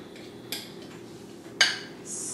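Spatula scraping tamale pie topping out of a bowl, a few distinct clinks and scrapes against the bowl rim spaced apart, ending in a longer dragging scrape, close and clear with no talk.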